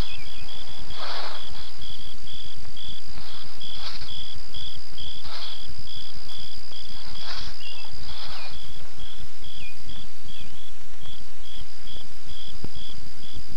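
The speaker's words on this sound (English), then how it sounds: "the lively cricket, whose friendly chirping so annoys the unsympathetic housewife." A cricket chirps in a steady, rapid pulsing rhythm, close and clear, joined by a few softer rustling bursts.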